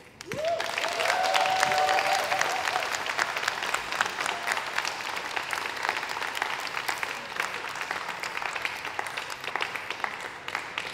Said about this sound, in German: am Ende gehört es sich doch nochmal eine dicke Runde Applaus zu geben